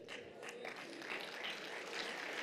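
An audience at a Rwanda Bar Association 25th anniversary celebration gives a round of applause, a steady, fairly faint wash of many hands clapping at a distance throughout.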